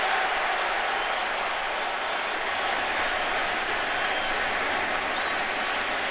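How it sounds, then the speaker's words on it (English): Dense, steady stadium crowd roar at an NFL game between the Patriots and Jets, a broad wash of cheering and applause that holds loud and even throughout without a break. "I think that's the first time I've heard the crowd here today."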